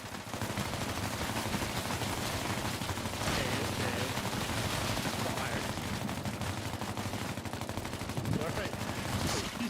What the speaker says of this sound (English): now shoot at me